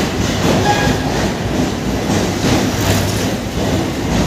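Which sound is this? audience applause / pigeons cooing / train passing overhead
train passing overhead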